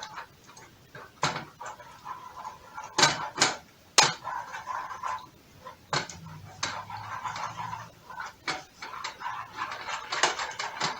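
Honey sesame chicken being stirred in a slow cooker, with a spoon clinking and scraping against the pot in irregular bursts, close and moderately loud, with quiet gaps between.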